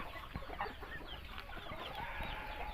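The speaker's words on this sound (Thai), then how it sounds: "อันนี้ไก่น้อยนะครับ" Young chickens clucking on a poultry breeding farm, a busy, continuous chorus of overlapping clucks and chirps at moderate distance with no talk.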